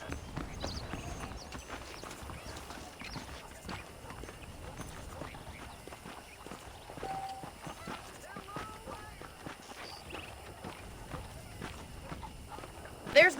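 Soft, steady clip-clop of horse hooves walking at an even pace in the video game Red Dead Redemption, faint and continuous under a quiet ambient backdrop.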